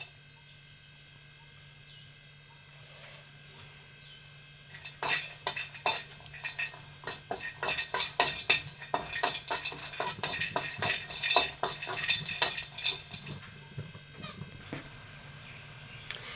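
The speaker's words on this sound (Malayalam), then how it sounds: "ഇതാ ഈ നട്ട്സൊക്കെ ഒന്ന് നമുക്ക് വറുത്തെടുക്കണം" Cashews and pistachios being roasted and stirred in a pan: quiet at first, then several seconds of busy rattling, scraping and clinking of nuts against metal, fairly close and moderately loud, with no talk.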